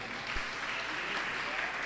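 Audience applauding steadily throughout at an honouring ceremony during a Jain religious discourse, a continuous, moderately distant wash of clapping.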